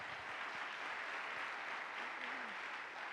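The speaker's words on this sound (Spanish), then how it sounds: "Denle el aplauso al Señor" A congregation applauds together in a church service, a continuous wash of clapping heard at some distance and fairly quiet, with a faint voice briefly audible underneath.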